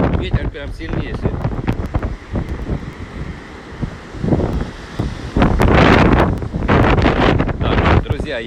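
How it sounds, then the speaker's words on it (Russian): Strong storm wind batters the microphone at the Sochi seaside, loud gusty roaring bursts rising and falling, with faint surf and a voice briefly in between. "Ветер прям сильнейший."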